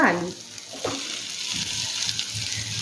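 Pre-fried potatoes dropped into sizzling spiced masala in a pan for Bengali ghugni, a steady close hiss with soft stirring scrapes and a brief voice at the start.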